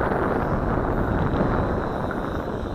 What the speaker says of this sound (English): That's the wind